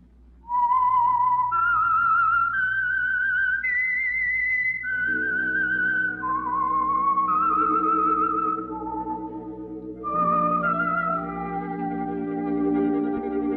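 A clear, solo whistled melody, the theme of the radio mystery program The Whistler, of sustained, gliding notes rises and falls, with a low instrumental backing swelling in beneath it partway through.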